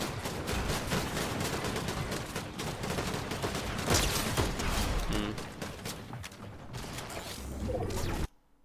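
Continuous gunfire crackles through a Fortnite match, dense overlapping shots and mechanical building clatter running loud for several seconds before cutting off abruptly, with a voice commentating over it.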